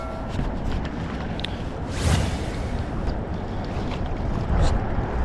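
Gusty wind buffets the microphone in a constant low rumble, with stronger blasts surging about two seconds in and again near the end.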